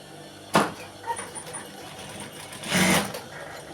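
A sewing machine stitches a straight seam on fabric: a sharp burst at the start, quiet handling sounds, then a short, louder whirring run of stitching near the end, close by.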